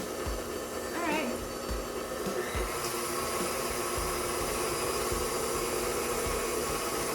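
An electric mixer whips chocolate soufflé mixture at medium speed, making a steady, close whirring drone throughout while people talk over it.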